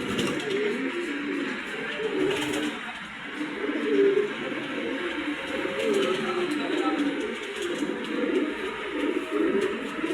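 Pigeons kept for sale, including a raced male, coo close by in a continuous run of low, rolling calls that overlap one another.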